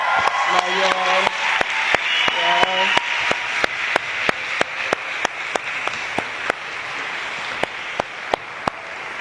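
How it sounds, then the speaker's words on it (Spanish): Sharp, regular claps ring out at a lecture gathering, spaced and echoing, while a voice speaks briefly early on; the clapping thins out toward the end. "sería muy bien empezar hoy con un aplauso mayor"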